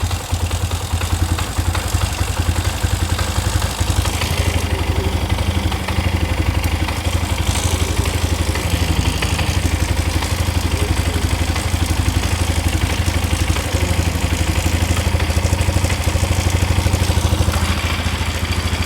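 A 2001 Polaris Scrambler 500 2x4 ATV engine idles steadily and loudly up close, with a continuous throbbing drone and some rattling from the exhaust, running alone without talk.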